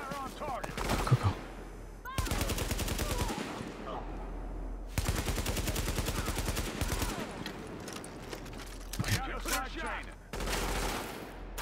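Sustained bursts of rapid rifle fire in The Division, dense fusillades rattling on and off across several seconds with short gaps, while players talk excitedly over the shooting.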